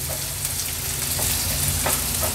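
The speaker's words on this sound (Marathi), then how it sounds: "कांदा थोडा तेलावर परतून घ्यायचा आहे" Sliced onion sizzles in hot oil over a medium flame while it is stirred now and then, a steady close frying hiss with soft scraping, and no voices.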